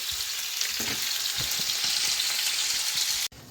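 Meat sizzles and crackles steadily in a hot pan, a close, continuous frying hiss with small pops, cut off abruptly at the end.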